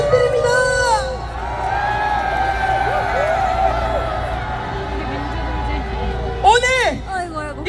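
A rally crowd cheers and shouts loudly on cue, a dense sustained roar with whoops and high voices rising in a final burst near the end.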